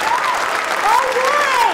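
A short burst of loud, close clapping for an award winner at the Fernando Award 2015 ceremony, mixed with cheering voices and whoops.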